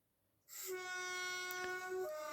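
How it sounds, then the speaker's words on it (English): A train horn sounds suddenly after a short quiet moment, one sustained loud blast that holds steady until the end. "but the horn sound came again"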